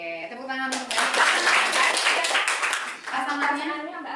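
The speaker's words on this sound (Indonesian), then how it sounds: "tepuk tangan untuk Mbak" A class audience at a counseling practicum session breaks into brief clapping that swells and then tapers off, with a voice speaking at the beginning and again at the end.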